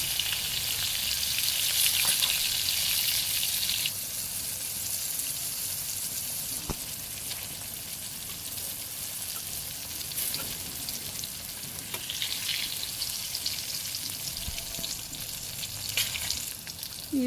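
Pointed gourd (potol) frying in a pan: a steady, close sizzle of hot oil that runs throughout, louder at first then settling, with occasional faint spatula scrapes.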